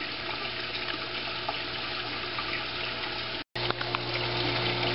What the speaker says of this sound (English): that is my homemade recirculating tank system